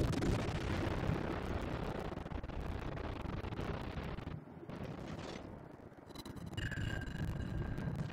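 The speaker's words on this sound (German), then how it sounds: "Die schießen voll auf mich, diese Ratten." Naval gunfire and explosions in the World of Warships video game, a dense, continuous roar of blasts and booming shots that stays loud throughout, with a brief dip near the middle before the barrage resumes.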